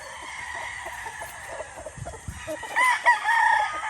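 White Kelso rooster crowing among about ten hens in a farm pen, several soft clucks and scratching noises followed by a louder crow near the end, fairly close.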